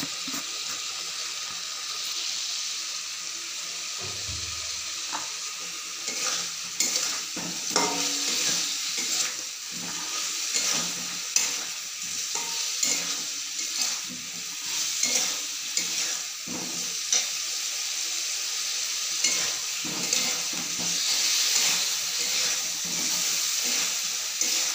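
Spiced yogurt mixture frying in a pan, with a steady close sizzle and repeated scraping stirs running throughout, no talk.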